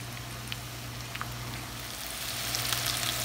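Beef tilee, a spicy chili fry, crackles in a pan of oil as a steady, even frying hiss with a few faint spits over a low hum, heard close and with no talking.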